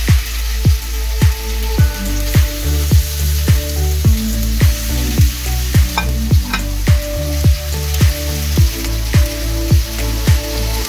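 Chicken tikka skewers sizzle loudly in hot oil in a pan, a steady frying hiss broken by sharp, regular clicks and taps roughly every half second, with no talking.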